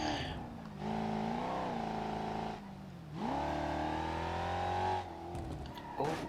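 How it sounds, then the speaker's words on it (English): A car engine in BeamNG.drive revving hard at full RPM, a loud sustained drone that climbs and dips in pitch with gear changes and brief lifts off the throttle, with no voices over it. "not getting that much airflow to the engine while being at full RPMs"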